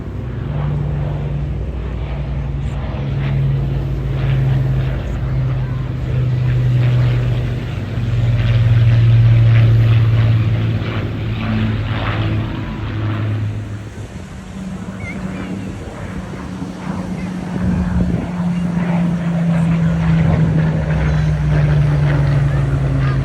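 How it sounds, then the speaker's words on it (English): A Hawker Hurricane Mark 2C propeller fighter flying at the Bournemouth Air Festival, its engine droning loudly overhead and swelling and fading as it passes, with wind and crowd noise and a voice at times. "The Hurricane today is a Hurricane Mark 2C, Lima Foxtrot 363"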